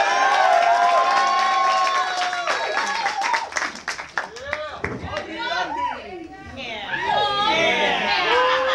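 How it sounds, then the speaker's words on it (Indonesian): Comedy club audience at an open mic night in Indonesia cheering and clapping, a loud, continuous crowd roar of applause and shouts with voices and a host speaking over it throughout. "Beri tepuk tangannya meriah untuk Rian."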